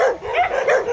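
Several dogs nearby give a quick burst of loud, yipping barks, two or three sharp calls within a second, close and clear with no talk.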